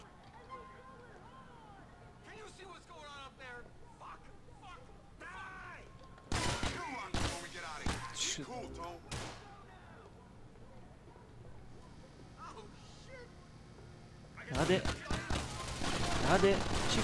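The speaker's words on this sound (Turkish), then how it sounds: "İlk çatışmamız mı bu oyunda?" A shootout in the video game GTA IV: The Ballad of Gay Tony, with bursts of rapid gunfire in two loud volleys, separated by quieter stretches. A voice talks over the game.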